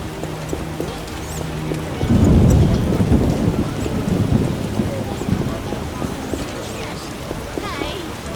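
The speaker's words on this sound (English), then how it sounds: "Oh, when will this rain stop?" Heavy rain and a rumble of thunder in the video game The Witcher Enhanced Edition, a steady downpour hiss with a deep roll of thunder swelling near the start and lingering under it.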